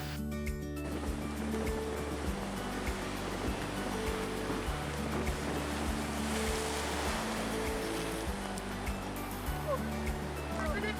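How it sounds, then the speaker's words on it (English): Ocean waves at Kauai, strong in the rain, roll and crash continuously with a broad hissing wash, mixed with a steady low rumble and a faint rhythmic mechanical pulse. "Waves usually are not this strong, but it is raining."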